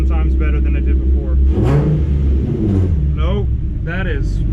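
A car engine runs steadily after its fuel injectors have been replaced, giving a close low rumble that rises and falls slightly under intermittent talking.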